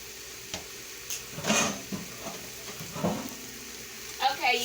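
Precooked Arby's roast beef sandwich meat warms in a pan, sizzling softly with a few brief scraping stirs and light clatters at close range.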